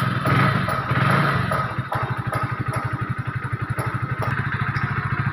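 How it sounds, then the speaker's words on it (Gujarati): A Hero Splendor BS6 motorcycle, with a newly replaced lock set, starts and settles into a steady, close, rhythmic idle putter, with no talk. "તો મિત્રો આ રીતે ટુ વ્હીલર કમ્પ્લીટ પ્રોપર રીતે ચાલુ થઈ ગયું છે"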